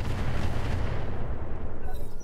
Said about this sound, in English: I'm assuming that was mortar